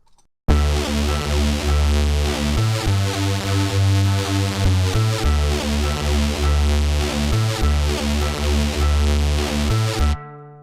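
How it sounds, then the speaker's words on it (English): Sustained layered violins and harps with lush bowed tones and plucked accents, steady and full, pausing briefly between phrases before ending abruptly. "Layered on top of this are a bunch of different types of string instruments"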